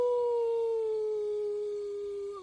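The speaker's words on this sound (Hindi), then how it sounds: "रात को दूर से कुत्तों की भौंकने की आवाज।" A dog's single long, steady howl at night holds one pitch for a couple of seconds, then fades out, clear and fairly loud.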